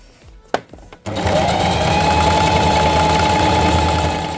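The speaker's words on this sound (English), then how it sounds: "so there we go, we've done the stitching" A sewing machine stitches a double-sided jeans tote bag. A few light clicks come first, then the motor starts and runs as a loud, steady, close whirring hum until the end.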